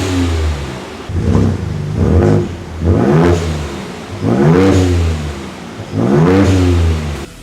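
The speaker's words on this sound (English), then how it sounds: "let's hear the stock exhaust sound first." A Ford Raptor 3.0 pickup truck with stock exhaust revs up repeatedly from idle, four or five throaty surges rising and falling with a deep rumbling exhaust, close by.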